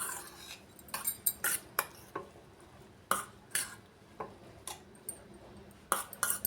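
A spoon scoops ground masala paste into a steel mixer jar, with a quick run of bright metallic clinks and scrapes at an uneven rhythm, close and crisp against a quiet kitchen background.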